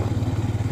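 A motorcycle engine chugs in a fast, even pulsing beat, close and steady, as the bike creeps slowly along a snow-covered mountain road in Nepal.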